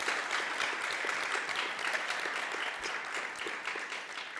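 A church congregation claps together during an Easter Sunday service, a steady, dense wash of applause that continues evenly for the whole stretch without talk.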